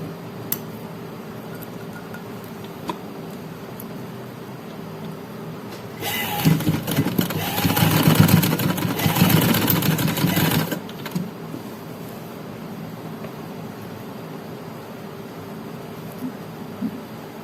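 A sewing machine runs edge stitching along a loop-style neckline, a single burst of rapid, buzzing stitches for about four seconds amid quiet room tone.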